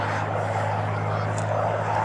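A restored Ilyushin Il-2 Sturmovik flies at the ILA Berlin air show, its piston engine giving a steady, distant drone throughout.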